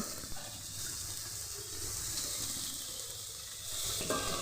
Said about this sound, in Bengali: বোল্ডে কিছুটা মশলা লেগে আছে, তো আমি জল দিয়ে ধুয়ে মশলার মধ্যে দিয়ে দিব।